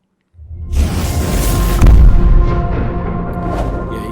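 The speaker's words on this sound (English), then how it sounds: "you do get a video with multiple fireworks" Fireworks go off close by in a sudden loud burst, followed by a sustained crackling, rumbling roar that fades slowly with no voices.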